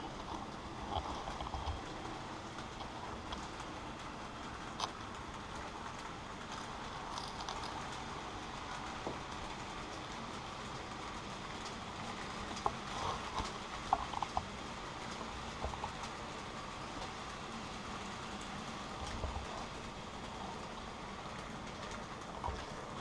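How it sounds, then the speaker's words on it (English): Model railway trains running around a layout, a steady low mechanical rumble and whir of small motors and wheels on track, continuous and fairly quiet, with a few faint clicks and no talking. "the back train under the tunnel starts to move out"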